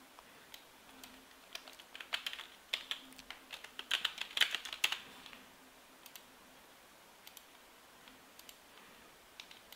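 A computer keyboard clatters in a quick burst of keystrokes, followed by a few scattered single clicks as the typing slows. It is heard close and fairly quiet, with no talking.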